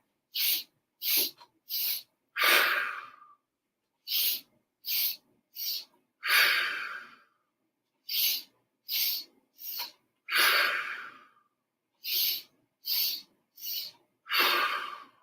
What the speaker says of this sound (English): That sniffing breath 5 times with or without the arms.